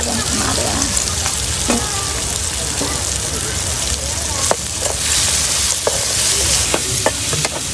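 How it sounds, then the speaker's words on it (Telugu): Pre-fried quail meat drops into a spiced turmeric and chili curry base in a pan, sizzling loudly and steadily while a spoon scrapes and stirs with intermittent knocks against the pan. "ముందుగా మనం ఆవగించుకున్న మాంసం అయితే వేసేసుకుందాం."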